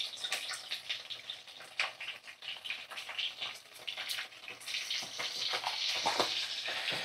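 Chicken pieces fry in hot oil in a pan after salt and turmeric powder are sprinkled over, giving a steady close sizzle with crackling spits that thickens and grows louder toward the end.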